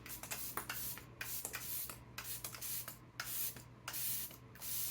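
A setting-spray nozzle hisses in a series of short, uneven bursts, close by and faltering, with brief pauses between pumps and a low hum underneath.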